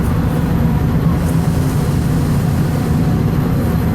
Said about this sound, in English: what you're hearing right now are Metro trains and Amtrak trains that are queuing up